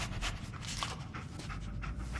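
A dog companion pants steadily in Fallout 4, rapid close breaths running continuously under a low game background hum.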